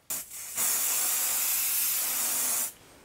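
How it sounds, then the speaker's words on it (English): A spray can gives a light coat to the back of a quilting ruler. It is one steady hiss of about two seconds after a short opening puff, close and fairly loud, with no talking. "do a light spray on the back of the ruler"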